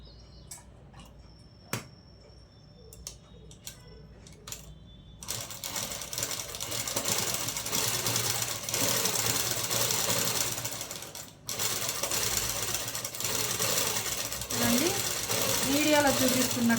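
A sewing machine stitches a blouse neck design with a steady, loud, continuous whir that starts after a few quiet clicks and handling sounds, and a voice speaks faintly near the end.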